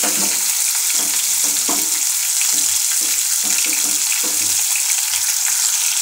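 Ivy gourd pieces and urad dal frying in hot oil give a steady, loud sizzle that runs through the whole stretch, with faint stirring and clinking underneath and no talking.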